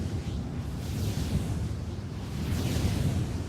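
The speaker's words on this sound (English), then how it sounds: "This is the sound of a turbine at the Merkur offshore wind farm in the North Sea." Turbine at the Merkur offshore wind farm in the North Sea, a steady deep rumbling roar with broad rushing noise that slowly swells and recedes, loud and continuous with no voices.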